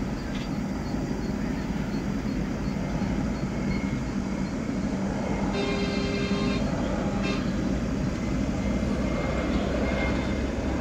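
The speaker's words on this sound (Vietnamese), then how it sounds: "đây là một loại máy bay khá lớn trong dòng máy bay phản lực kinh doanh" A large business jet with rectangular cabin windows produces a loud, steady engine roar that holds unbroken throughout, with no voices present.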